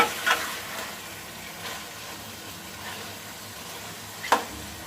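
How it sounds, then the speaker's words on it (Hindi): Chicken karahi fries on a low flame in a pan, a soft steady sizzle broken by occasional scraping clinks of a spoon stirring, fairly quiet, with no voices. "धीमी आंच पर हम इसे आहिस्ता आहिस्ता से चम्मच हिलाते जाएंगे और भूनेंगे"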